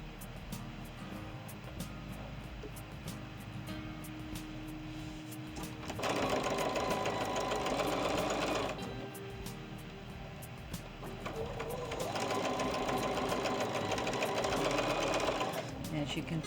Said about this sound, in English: and sew all the way down